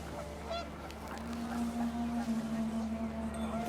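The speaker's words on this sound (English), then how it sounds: "The wind picked up and panicked geese appeared and quickly went." Panicked geese honk in the video game What Remains of Edith Finch, several quick calls over a low, steady wind-like drone, moderately quiet and brief.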